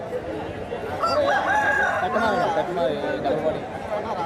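A native country rooster crows amid the bustle of a poultry market, its call rising over constant crowd chatter and clucking from other fowl, fairly near and steady throughout.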